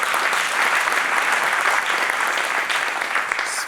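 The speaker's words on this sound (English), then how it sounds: "let's give them a strong round of applause." Strong, loud applause from the audience at an evening awards ceremony, a dense continuous roar of clapping that tapers slightly at the close.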